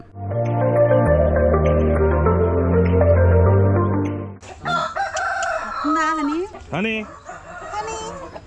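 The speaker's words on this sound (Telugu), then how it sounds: "ఈ కోడిపుంజలను ఒకసారి చూడండి." Roosters raised for Sankranti cockfights crow loudly and close by, one long crow followed by overlapping crows and clucks from other birds, heard alone without talk.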